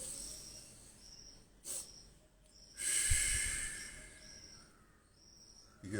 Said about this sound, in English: Everybody take a deep breath through your nose